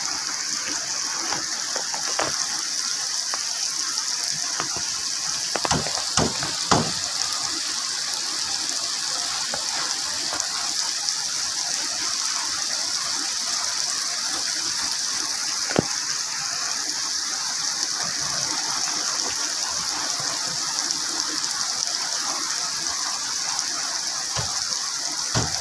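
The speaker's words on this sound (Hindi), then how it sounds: "बारिश बहुत लंबी चलेगी।" Rain falls steadily in an unbroken wash of noise, with occasional sharp drips and taps standing out over the long, even downpour.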